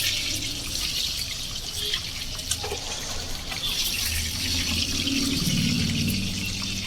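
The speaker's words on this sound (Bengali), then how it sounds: "তেলটা গরম হয়ে গেছে, এবার আমি ডিমগুলো এই তেলের মধ্যে দিয়ে দেবো।" Eggs dropped into hot oil for a Bengali egg kasha give off a steady, bright, hissing sizzle that fills the whole stretch at close range.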